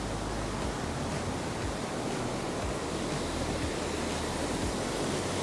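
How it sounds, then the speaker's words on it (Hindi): A small waterfall flowing beside an old brick wall outdoors, a dense, continuous rushing wash of water, close and even throughout with no voices. "ये देखो छोटा सा वाटरफॉल यहाँ पे।"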